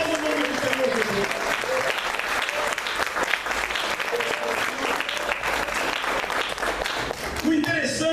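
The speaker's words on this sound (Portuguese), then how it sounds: "aplauda o nome do Senhor Jesus" A church congregation applauds in honour of Jesus with loud, steady clapping from many hands, voices and cheers mixed into the din, lasting about eight seconds.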